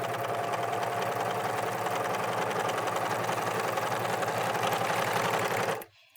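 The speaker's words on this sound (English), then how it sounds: "Now let's run a piece of fabric through the machine." A steady, close mechanical chatter from an American Home serger stitching fabric with a 3-thread overlock stitch, running continuously for nearly six seconds before cutting off with a soft click.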